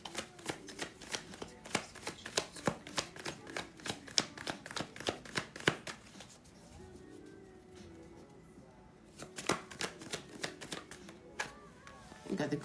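Tarot cards are shuffled by hand in rapid riffling bursts, close and crisp, pausing midway before a few more shuffles, with light speech now and then.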